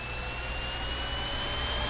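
A steady jet-like turbine whine and roar from an MV-22 Osprey tiltrotor aircraft in a Minecraft helicopter mod, a continuous, even engine drone with a high tonal whistle.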